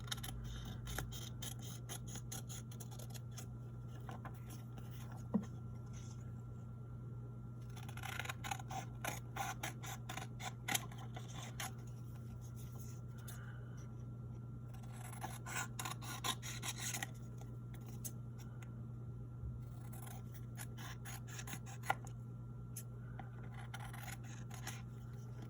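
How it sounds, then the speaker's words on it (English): Scissors trim around the edge of a paper journal-topper card in a quiet room, giving small bursts of crisp snipping and rasping cuts separated by pauses, set against a steady low hum. "I'm gonna grab my scissors and I'm just gonna trim around the edge of this card"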